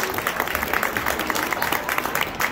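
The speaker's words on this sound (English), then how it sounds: "By applause, Cindy on the fiddle." Audience at the Mammoth Restaurant applauding a fiddle player named Cindy, a dense, steady patter of many hands clapping at moderate distance with faint crowd murmur underneath.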